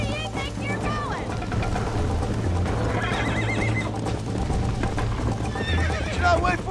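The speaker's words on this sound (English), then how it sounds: "I think you chose the wrong horse, Miss McFarland." A horse in the Red Dead Redemption video game neighs and whinnies repeatedly over a steady clip-clop of galloping hooves, loud and close, with voices talking over the ride.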